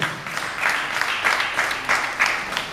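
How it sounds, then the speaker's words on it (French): An audience at a forum on digital careers in Porto-Novo applauds at length, a dense, steady wash of clapping with slight rhythmic surges. "Je voudrais donc qu'on applaudisse très très fort pour accueillir M. Prudès Dossou"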